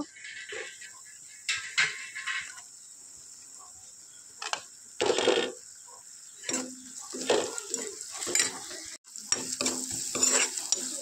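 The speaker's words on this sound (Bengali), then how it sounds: "ভালো করে মশলাটা কষিয়ে নেব।" Ground spice masala of chilli, turmeric, coriander and ginger powders stir-fried in a pan for a small fish curry, sizzling loudly with repeated scraping stirs and clinks of the spatula against the pan, close by.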